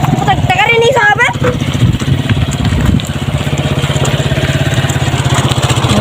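A new motorcycle engine runs at a steady, throbbing idle close by, with a continuous low pulsing drone under people talking over it.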